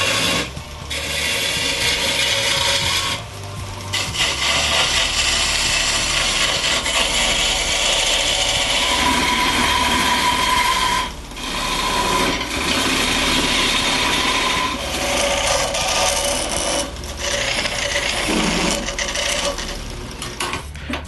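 Wood lathe turning with a roughing gouge and paring tool: a continuous rasping, scraping cut of the tool against spinning wood, close and steady, with a few brief pauses.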